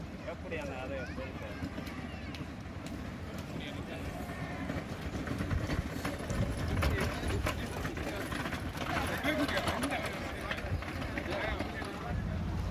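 Bulls pull carts at speed in a bullock cart race at Vattakachchi, Kilinochchi. Rumbling hoofbeats and wheel noise mix with a steady, noisy crowd roar that swells midway and keeps going throughout.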